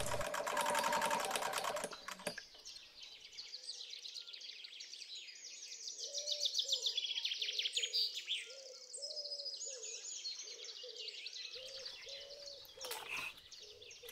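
A sewing machine stitches all the way around paired fabric wings, right sides together, for a Halloween candy bag, a steady close rhythmic whirring that runs on and off alongside faint bird chirps and cooing doves, with no talk.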